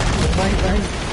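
Rapid gunfire in Call of Duty, a loud burst of shots packed tightly together over a brief moment with a voice mixed in.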